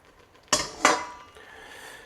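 A spoon stirring crawfish etouffee in a cooking pot: two sharp metallic scrapes or knocks close together, then a soft fading rustle of the thick mixture.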